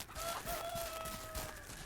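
Chickens in the farming video game Ranch Simulator cluck steadily and a rooster crows, the fowl sounds continuous and fairly quiet under a constant background hum.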